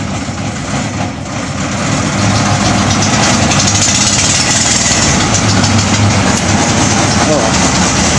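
An engine running loudly and steadily at idle on a boat or vehicle, a continuous low rumble that holds for about eight seconds, close by and dominant.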